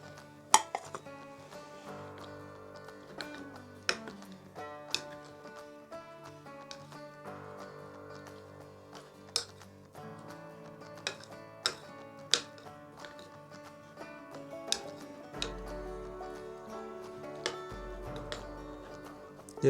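Egg batter for a masala omelette with coriander being mixed in a bowl, with repeated sharp clinks and taps of utensil against dish over a steady quieter scraping, close and without speech.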